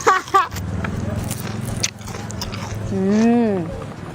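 Crunchy fried lumpia shanghai bitten and chewed close up, with a few crisp crackles, then a voice humming or making an appreciative sound.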